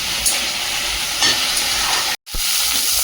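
Bitter gourd and potato fry with turmeric in hot oil, giving a loud, dense, continuous sizzle with a brief dropout near the end and no talking.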